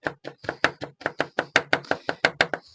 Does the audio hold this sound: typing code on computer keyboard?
no